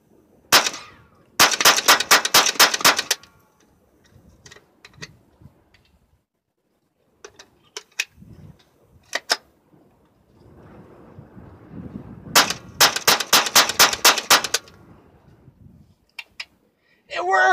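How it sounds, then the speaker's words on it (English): A Henry AR-7 survival rifle fires two quick magazine dumps outdoors at a range, each a rapid string of sharp, loud cracks, with a quiet gap and faint movement sounds between the strings. "Let's just do a quick little 2 magazine dump here."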